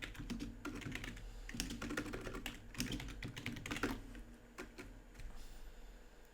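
Quiet, steady typing on a computer keyboard, with rapid close key clicks in short uneven runs and a few brief pauses, entering subject text for an email, with no one speaking.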